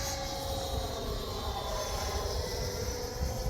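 A Freewing Avanti S 80mm electric ducted-fan RC jet flies by, its turbine-like whine steady and fairly loud with a broad rushing roar and slowly shifting tone as it passes, no voices present.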